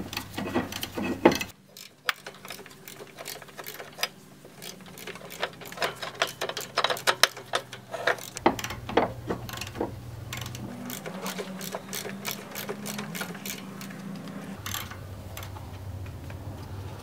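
Wrench unbolting the drag link bolts on a lawn mower, giving a steady stream of fast, close mechanical clicks and ratcheting ticks over a low background hum, with no voices.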